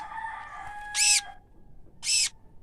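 A pet rooster on a small farm crows twice in short, loud bursts about a second apart, close by, after a fading tail of an earlier call, with quiet surroundings between.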